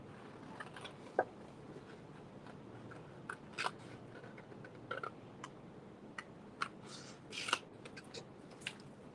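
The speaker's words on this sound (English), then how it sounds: "Let's cut this butterfly out." Scissors snip out a paper butterfly shape, with sparse, quiet, irregular clicks and crunches of the blades in a calm indoor setting.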